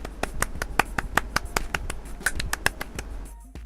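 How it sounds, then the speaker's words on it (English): Polite clapping in a video game: a steady, evenly spaced series of about a dozen crisp, close hand claps with no talking. "I clap politely all the same."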